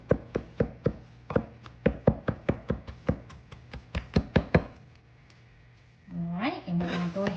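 A knife chops garlic on a cutting board in a quick run of sharp, evenly spaced knocks, close and clear, which stop before a voice starts talking.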